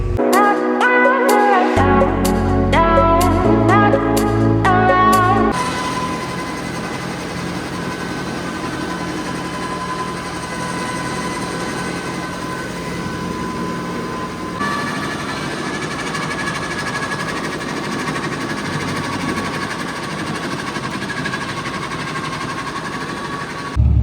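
A steady tractor engine drone runs throughout in a field, loud and continuous, with clanking mechanical noises at the start before settling into a constant rumble.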